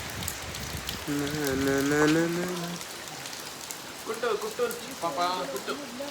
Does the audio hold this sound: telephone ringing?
no